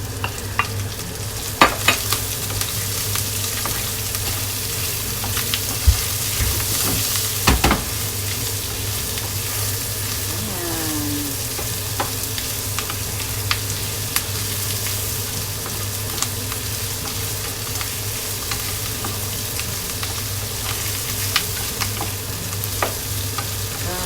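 Onion and garlic frying in a pan for ginataang labong, a steady close sizzle running throughout with scattered sharp clicks and scrapes of stirring, no voices.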